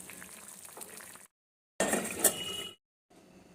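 Hot water is poured into a pumpkin and potato curry, a loud liquid rush and bubbling that lasts about a second between quieter cooking sounds, with short silent gaps on either side.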